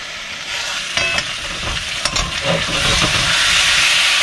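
About 150 grams of potatoes sauté in spiced oil in a pan for a Bengali jackfruit and shrimp curry, with a steady loud sizzle and a few clinks and scrapes of stirring close by.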